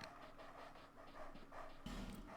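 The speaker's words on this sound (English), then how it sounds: "Right, down there are dogs." Rhythmic panting of several dogs in Dark Souls 2, quick repeated breaths close by with a brief low thump near the end.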